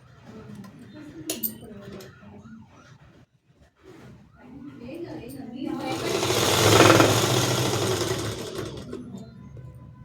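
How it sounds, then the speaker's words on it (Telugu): A tailoring sewing machine stitching the folded hem of a sari petticoat, running in a steady whirring burst that swells loud midway and then eases off, with someone talking quietly before it starts. "ఇటు సైడ్ కూడా లోపలికి మడిచి కుట్టుకోవాలి"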